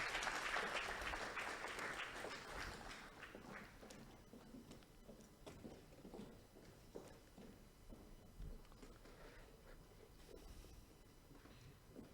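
An audience at an agribusiness leadership event claps while a guest makes his way forward. The applause is strongest at first, then thins to a sparse patter of scattered claps and faint movement for several more seconds.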